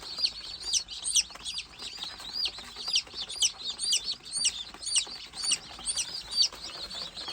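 High, insistent peeps from a young Gavran country hen chick repeat in a fairly regular rhythm, close and clear, with light rustling and no voices.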